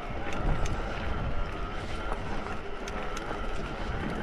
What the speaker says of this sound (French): Il y a le vent qui s'est levé.